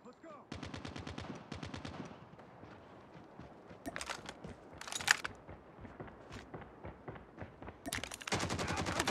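Automatic gunfire rattles in the Call of Duty video game, with rapid machine-gun bursts at the start and end and scattered single shots, footsteps and impacts in between, close and punchy.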